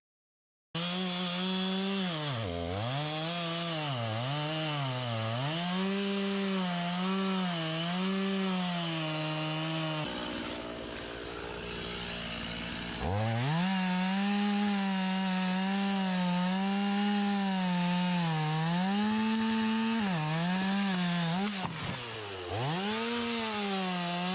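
A Wood-Mizer LT35 band sawmill cutting a poplar log: a loud, continuous, harmonic whine that wavers in pitch, eases off briefly midway, then resumes at full strength.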